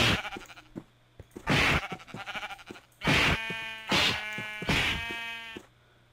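Minecraft sheep bleat repeatedly in a Dragon Ball mod game, several loud close bleats in quick succession with soft thudding hits between them and no talk.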